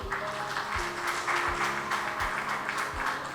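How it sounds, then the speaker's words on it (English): An audience at a Lagos State government launch event for a food security roadmap breaks into a short burst of applause, with dense clapping sustained for a few seconds. "I think they deserve a round of applause."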